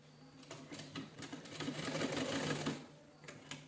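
A sewing machine stitches lace onto a fabric piece in one quick, steady rattling run, building to a peak and then slowing, with soft handling noises around it.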